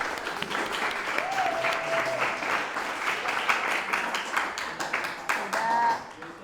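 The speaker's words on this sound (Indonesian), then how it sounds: "Mantap, tepuk tangan untuk kita semua." Classroom students clap together for everyone, a sustained burst of many hands at steady volume with some voices and a brief tonal sound over it, tapering off near the end.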